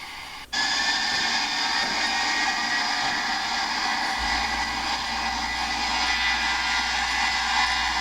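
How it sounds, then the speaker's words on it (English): A Boeing 737-800 jet engine roars loudly and steadily after a sudden start on takeoff, a constant high whine over a deep rumble, heard close from inside the cabin near the wing. "We're going to get to hear that great engine sound from seat 8A or 9A."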